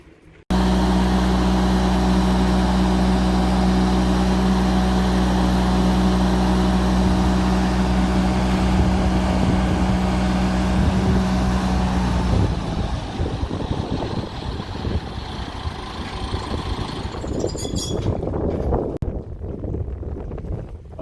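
A loud, steady motor hum with a strong low drone runs for most of the time, then cuts out, leaving rushing wind and water-like noise.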